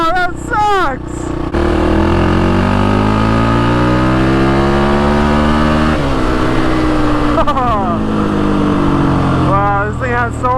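A Can-Am quad ATV engine revs loudly at top speed, its strained drone climbing and holding up close, while a person talks briefly at the start and the end.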